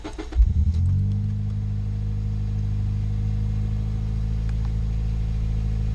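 A Scion xB engine cranks and catches with a short burst, then settles into a steady, even idle that hums on without change. No voices are heard.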